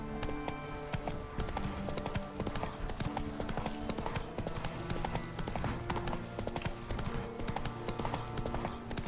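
Horse hooves galloping in The Witcher 3, a steady, dense clip-clop rhythm that stays loud and continuous throughout, layered over game ambience and music.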